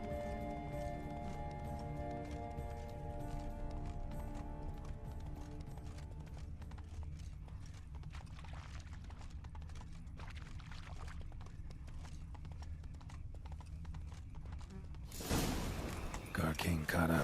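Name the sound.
horses galloping with clip-clop hooves in the video game The Witcher 3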